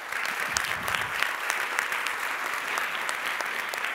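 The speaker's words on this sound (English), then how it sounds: "So let's give them all an applause." Audience at the Social Innovation Summit 2015 opening applauds the sponsors, a full, sustained round of clapping from a large crowd in a hall, steady and even throughout.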